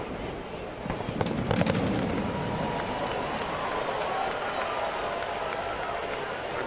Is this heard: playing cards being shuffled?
no